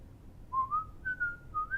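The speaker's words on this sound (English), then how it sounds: "Whistle a time-passing sweet refrain" A person whistles a short, wavering melodic tune alone, clear and close, with a few sustained notes gliding between pitches.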